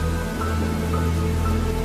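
Steady heavy rainfall fills the background of a spoken horror story, a dense continuous hiss with a constant low hum and no voice audible over it.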